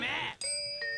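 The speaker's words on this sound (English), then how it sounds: "I love the ding dong sound." Short ding-dong chime effect from the One Piece anime: two bright bell-like tones in quick succession, clear and close, lasting about a second.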